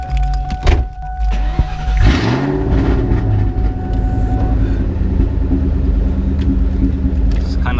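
A Ford Mustang Cobra engine rumbles loudly and steadily from inside the car, with a brief rise in revs partway through and a continuous low drone, while voices speak faintly over it.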